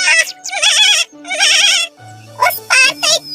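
Goats bleat repeatedly in a told story, several loud, wavering cries close up with short pauses between them.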